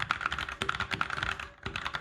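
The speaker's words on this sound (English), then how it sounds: "I'm gonna practice typing my passwords." Rapid typing on a Razer BlackWidow Lite mechanical keyboard, a steady stream of close, crisp key clacks with a brief pause before the keystrokes resume.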